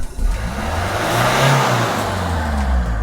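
A Citroen C3 1.4 HDi diesel engine with dripping injectors and white smoke revs up steadily and holds a loud, rising roar up close, with a deep droning tone throughout.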